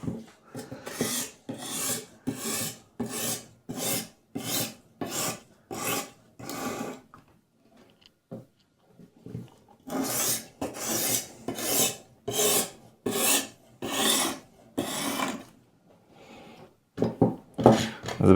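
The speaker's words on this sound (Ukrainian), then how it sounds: "Зараз підрізаємо заусенець з обох сторін." Rhythmic rasping strokes come from a steel X50CrMoV15 chef knife being drawn across elbor and ruby ceramic sharpening stones to remove the burr, in two close series of evenly spaced passes with a brief pause between.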